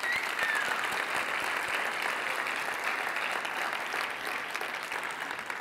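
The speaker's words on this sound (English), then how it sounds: "let's give a huge, huge, huge round of applause to all of our top 20 companies." A large audience at TechCrunch Disrupt 2025 claps continuously in dense, even applause for startup finalists that holds steady throughout and fades slightly at the end.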